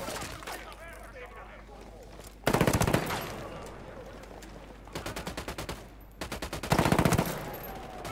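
Automatic gunfire rattles in the video game Ghost Recon Wildlands, with several loud, rapid bursts and gaps between them, while a voice talks underneath.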